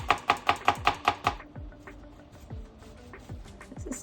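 A knife chops garlic on a cutting board in a home kitchen cooking a Burundian dish: a quick run of about eight sharp, evenly spaced, close chops, then fainter scattered knocks and light handling noise.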